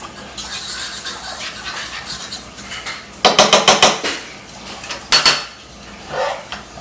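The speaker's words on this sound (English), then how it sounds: "I'm just going to whisk up our bacon gravy here" A whisk beats bacon gravy in a metal pan, producing rapid scraping, clinking strokes that come in quick bursts, loud and close with no voices over them.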